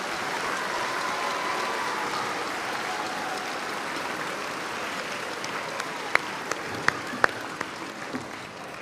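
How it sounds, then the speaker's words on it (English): Audience at a middle school bridge-to-high-school ceremony applauds its teachers, a steady, moderately distant crowd clapping with a few crisp louder claps toward the end. "So please give our teachers a huge round of applause."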